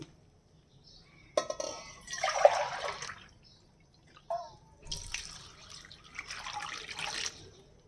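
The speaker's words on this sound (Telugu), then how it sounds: "ఈ చెంబుతో రెండు చెంబులు పోస్తాను నీళ్ళు" Water is poured from a small metal pot in two separate bursts, splashing and gurgling into a metal vessel for an herbal decoction, with quiet pauses and a soft clink between pours.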